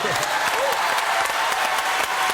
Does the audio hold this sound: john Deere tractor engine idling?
no